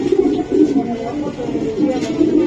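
A racing pigeon coos in close, throaty, repeated phrases, with a brief voice mixed in.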